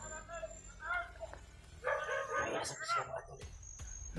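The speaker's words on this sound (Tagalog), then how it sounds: "May mga aso silang dala" Several dogs bark and yip in loud bursts, with a whimper among them, over a hushed outdoor scene while people talk quietly nearby.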